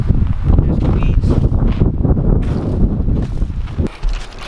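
Gusty wind buffets across an open onion field on a small farm, a loud, close rush of uneven blasts and microphone rumble, with a person speaking intermittently underneath.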